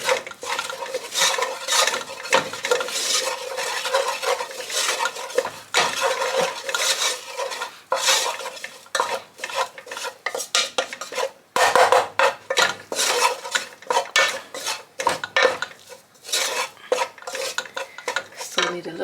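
Spoon stirring flour roux in a pot on a lit stove for mac and cheese, steady scraping and clinking against the pan with short pauses, close and continuous with no talking.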